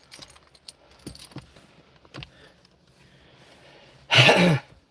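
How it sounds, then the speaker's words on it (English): A large bunch of keys jangles in several short, faint bursts, then one loud, close metallic rattle near the end, indoors. "So many freaking keys"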